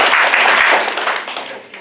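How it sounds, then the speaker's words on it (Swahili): An audience at a public meeting gives a short burst of applause for a speaker, dense clapping that fades out within a couple of seconds. "Makofi mawili kwake."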